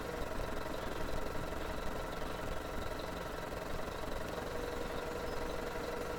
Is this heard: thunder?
no